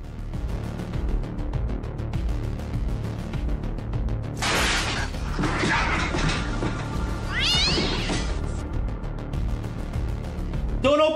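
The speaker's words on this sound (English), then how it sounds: "The cat meowing just freaks your cat out?" A cat meows with a rising, drawn-out call over steady, droning video game music, with no talking.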